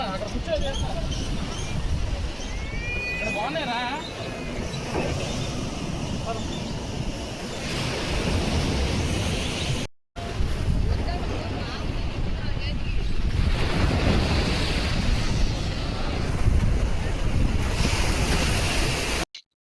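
Ocean surf rolls in continuously at Uppada beach, a loud broadband wash of breaking waves with wind rushing against the microphone and a brief dropout midway.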